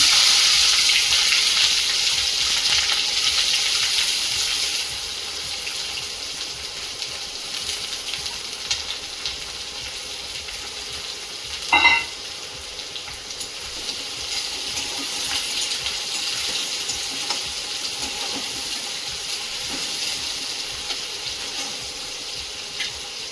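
Steady, dense sizzling of chopped onion frying in hot oil, continuous throughout, with one brief clatter near the middle.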